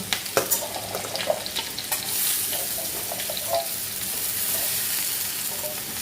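Drumstick stalks drop into a hot pan of mustard-paste gravy, giving a steady sizzling fry with soft stirring clicks and a few light knocks near the start, close and moderately loud with no talk.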